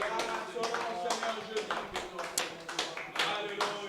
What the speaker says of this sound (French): Un torrent d'acclamation pour ce Dieu. Il mérite tous nos applaudissements